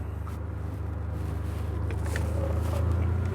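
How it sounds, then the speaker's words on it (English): A 1984 right-hand-drive Ferrari 512BBi's flat-12 engine hums low and steady as the car pulls away in first gear, the tone rising gradually and growing slightly louder. "you notice the distinctive flat 12-cylinder note."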